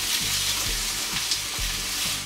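Sausages fry in a covered pan with a steady, dense sizzle, and a few low thumps can be heard beneath it.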